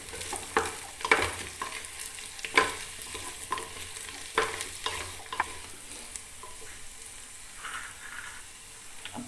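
Cut bottle gourd pieces fry in a pan with a steady low sizzle, while irregular scraping and clinking from stirring come through close by.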